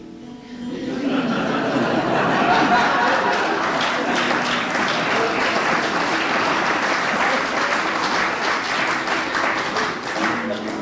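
An audience at a live 1992 concert bursts into sustained, loud applause with scattered laughter and chatter, the clapping dense and steady for around ten seconds after a brief quiet start.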